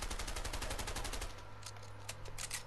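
Rapid automatic gunfire during target practice in the video game A Way Out, a dense continuous burst of loud shots that cuts off partway, followed by a few scattered single shots over a low game hum.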